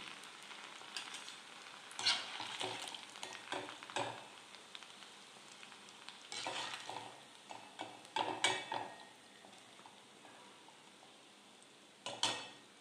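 Potato mini roll samosas deep frying in a pan of oil, giving a soft, continuous sizzle with occasional light clinks of a utensil against the pan, and no one speaking.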